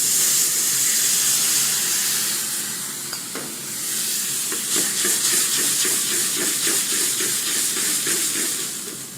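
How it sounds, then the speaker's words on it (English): Chardonnay white wine poured into a hot pan to deglaze after sweating vegetables, a loud steamy hiss that dips, then a bubbling sizzle with rapid crackles as it reduces. "Now I'm going to deglaze with the white wine, a little Chardonnay."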